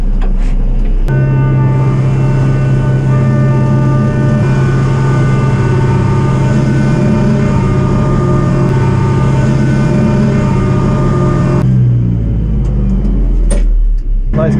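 A Talus MB-4H lifeboat launch tractor runs its engine at steady, consistent revs for about ten seconds, a loud, close diesel drone with a strong low hum that then drops back to a rumbling idle, with brief clanks after.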